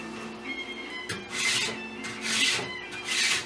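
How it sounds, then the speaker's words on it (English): A cheap hand planer drawn along the edge of a piece of wood, close and fairly quiet, giving a few rasping, raspy shaving strokes in repeated bursts with brief gaps between. "A planer is this tool right here."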